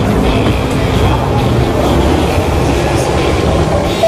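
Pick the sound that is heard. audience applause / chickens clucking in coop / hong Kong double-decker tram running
hong Kong double-decker tram running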